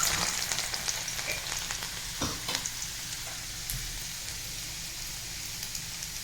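Finely chopped garlic fries in three to four spoonfuls of hot oil in a wok, giving a steady close sizzle with scattered crackles and pops and no talking.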